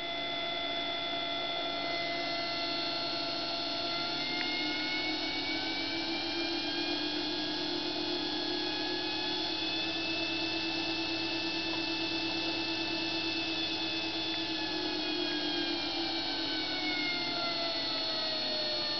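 A homemade 1500 amp motor controller driving a motor gives a continuous layered electric whine with several sustained tones that slowly rise and fall in pitch, loud and steady for the whole stretch.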